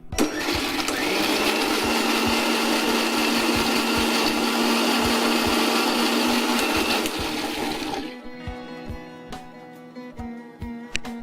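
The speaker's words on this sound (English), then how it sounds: "Little more water. Let's grind it once again." Mixer grinder blending chutney with added water, a loud steady whirring grind for about eight seconds before cutting off and spinning down with light rattling.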